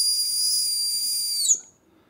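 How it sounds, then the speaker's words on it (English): A small plastic whistle built into a trail running pack gives one steady, shrill, thin blast lasting about a second and a half, then stops abruptly, heard alone and fairly quiet. "Many running packs come with a built-in whistle, although these can leave something to be desired."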